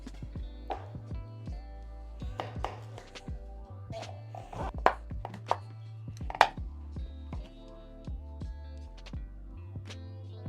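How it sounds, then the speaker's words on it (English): A chef's knife cuts hard raw pumpkin into chunks on a cutting board, with irregular, close, sharp thunks and scrapes spread over a steady low background hum. "Trim off the blossom end and cut the pumpkin into chunks."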